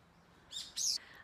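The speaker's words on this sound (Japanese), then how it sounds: "どっかまた鳥たちは喧嘩してる。" Squabbling birds give two short, bright bursts of chirping close together, standing out over quiet outdoor background noise.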